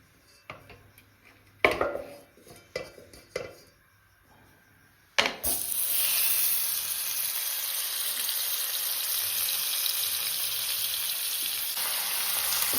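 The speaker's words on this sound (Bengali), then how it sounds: "দেখো মাছ ভাজাটা কেমন করে হচ্ছে" A few faint clinks of kitchenware come first, then fish is dropped into hot mustard oil and a sudden loud sizzle bursts out and keeps crackling steadily to the end.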